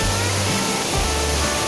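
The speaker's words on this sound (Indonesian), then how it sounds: "Itu dia air terjunnya." Aek Martua waterfall in Pasir Pangaraian, Rokan Hulu, a loud, continuous rushing roar of falling water heard close by, with no talk.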